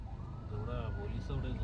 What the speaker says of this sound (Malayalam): ആംബുലൻസ് ആണെന്ന് തോന്നുന്നു.